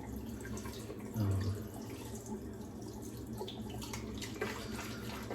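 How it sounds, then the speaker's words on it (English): Shaving brush swished and rinsed in a bowl of water, a soft continuous watery splashing with one brief louder slosh near the start, close and steady, with no talking. "gonna rinse out my brush in my bowl"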